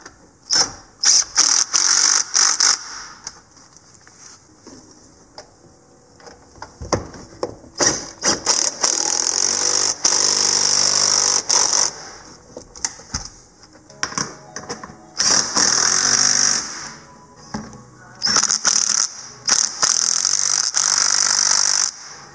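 A ratchet tightens the intercooler bolts on a Maverick X3 during a fuel pump performance kit install, giving loud, rapid clicking bursts that start and stop repeatedly with brief pauses, and no talking.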